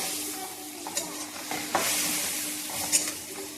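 Ground spices such as coriander and turmeric powder sizzling in hot oil in a pan for a fish dish, with a steady soft frying hiss and the scraping of a spoon stirring every second or so, no talk.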